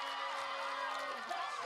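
A football crowd at a varsity game at Pillow Academy roars in a sustained, wash of cheering and whooping, fairly steady and moderately loud throughout the brief moment.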